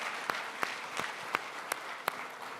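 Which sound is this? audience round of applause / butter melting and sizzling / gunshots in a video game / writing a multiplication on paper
audience round of applause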